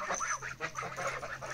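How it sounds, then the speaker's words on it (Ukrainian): Farm geese honk repeatedly in a loud, close, overlapping chorus of harsh calls, with no talking. "Що мої гусі-лебеді?"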